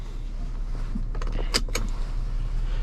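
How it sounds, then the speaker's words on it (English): A seatbelt is buckled inside a 2025 Nissan Pathfinder Rock Creek, giving a short metallic rattle and a couple of sharp latch clicks over a low cabin hum, with no talking. "let's buckle up for safety first"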